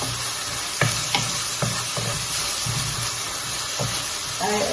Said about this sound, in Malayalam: അത് രണ്ട് ഇട്ടിട്ട് നന്നായിട്ടൊന്ന് വഴറ്റുക